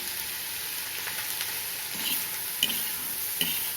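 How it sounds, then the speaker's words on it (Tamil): A steady hiss of onions frying in oil, with a couple of short clinks and scrapes from stirring, no voices present. "இந்த வெங்காய பொரியல் வந்து இதுபோல் இரும்பு வானலில் தான் செய்யணும் அப்போ தான் நல்லா வதங்கி வரும்"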